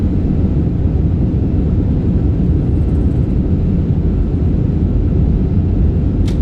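An Airbus A340-300 in Microsoft Flight Simulator 2024 decelerates on the runway after landing at Larnaca, a loud, constant low engine roar and rumble that holds steady throughout, with no voices.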